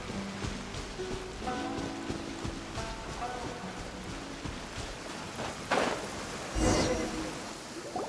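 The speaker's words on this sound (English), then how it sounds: "If this rain keeps up, my fur will be dripping wet." Rain patters steadily in the Genshin Impact video game, a continuous close hiss of drops with musical tones and game effects layered over it.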